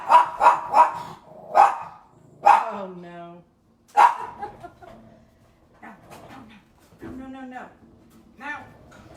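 A house dog barks close by indoors during a painting session, a burst of several sharp barks followed by a few softer yips, while someone speaks briefly and quietly between them.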